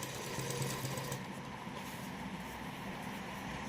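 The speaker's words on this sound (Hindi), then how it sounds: "इसके बिल्कुल ही नीचे नीचे किनारे पे हम सिलाई लगाएंगे" A sewing machine stitches along the bottom hem edge of fabric, making a steady, close mechanical whirr that runs without a break at moderate volume.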